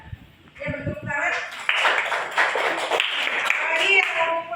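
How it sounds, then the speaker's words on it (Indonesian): A small classroom group claps together for a few seconds, the applause starting after a brief bit of voice and continuing steadily. "Ya, beri tepuk tangan."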